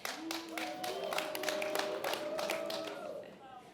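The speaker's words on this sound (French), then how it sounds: "J'imagine que les applaudissements sont des applaudissements de soutien" A crowd at a French political rally applauds in a dense, sustained patter of claps, while a voice speaks and carries over the applause.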